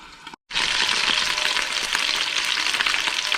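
Buffalo chicken wings fry in a pan with a loud, steady close sizzle and crackle after a brief silent gap, continuing evenly for about three seconds with no talking.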